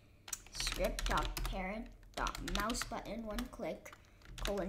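Keys clatter on a computer keyboard in quick bursts while someone talks over them almost continuously, the typing soft and partly buried under his voice.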